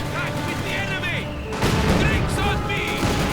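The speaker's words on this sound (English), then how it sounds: "Heavy mortar arriving. Pack firing away" Heavy mortar shelling and gunfire in a WWII strategy video game, with bursts of rapid shots and a louder burst of explosive rumble halfway through, layered over game ambience and background voices.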